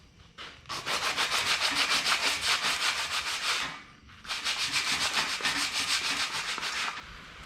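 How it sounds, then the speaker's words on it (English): Steady rhythmic back-and-forth sanding of a filled sign post surface, rapid scraping strokes in two long runs with a brief pause between, close and fairly loud, no talking. "I'm just gonna sand this down flat, try to get a bunch of the bumps and stuff off"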